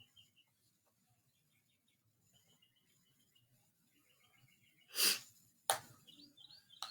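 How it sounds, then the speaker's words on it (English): Birds chirp outdoors with faint, high, repeated twittering in the distance, broken by a couple of sudden louder rustles or knocks near the end. "You can listen to the birds behind me chirping."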